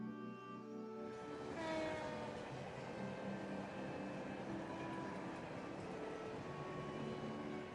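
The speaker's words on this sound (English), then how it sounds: "That's a super quiet train." A train in the video game Trails from Zero passes at night, a soft, steady rumble and hiss that fades in and holds for several seconds under quiet ambient tones.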